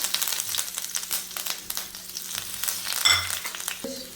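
Dried red chillies and curry leaves fry in hot coconut oil with mustard seeds, a close, crackling sizzle with occasional stirring sounds and no voices.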